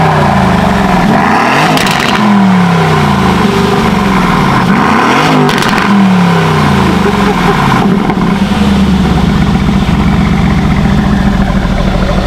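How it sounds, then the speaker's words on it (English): Straight-piped Aston Martin V8 Vantage revving at a standstill, three sharp loud blips with falling decays over a rumbling idle, close-up, then settling into a steady burbling idle. "Let's get valves open and a few revs of the V8."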